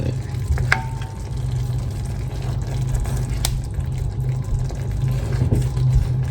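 Ground meat and browned gravy simmer in a pan for a Salisbury steak dinner, giving a continuous loud sizzle and bubbling with a few sharp clinks of a utensil, and no voices.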